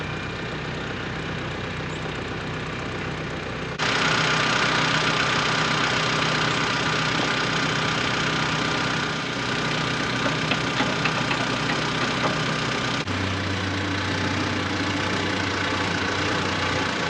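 A tractor engine runs at a steady idle nearby, its continuous mechanical drone stepping up in level after a few seconds and later dropping to a deeper, throatier tone, with no one talking.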